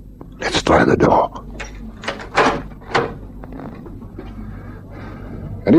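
Door being tried and pushed open in a police drama scene, with several knocking, rattling thumps and a clatter early on, then quieter handling noises and room tone, with voices around it.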